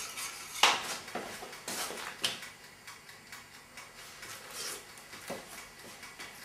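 Mac and cheese sauce with Worcestershire stirred in a pot, a spoon clinking and scraping against the metal in scattered, uneven taps, fairly close, with no talking.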